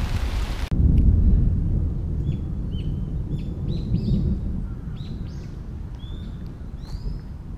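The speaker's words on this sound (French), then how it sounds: "je voulais juste que vous entendiez l'orage" A thunderstorm rolls low and heavy overhead in Otsuka, Japan, a broad rumble that swells early and then eases, while birds chirp faintly and repeatedly above it.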